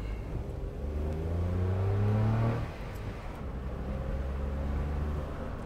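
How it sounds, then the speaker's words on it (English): A car accelerates up a hill on a narrow road, the engine rising in pitch and rumbling loudly, then easing back to a steady lower drone heard from inside. "Accelerate up the hill a little bit."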